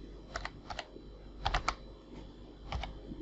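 Soft keyboard typing while a word is entered in QGIS software: short bursts of two or three quick clicks separated by pauses, fairly quiet and close, with no voices.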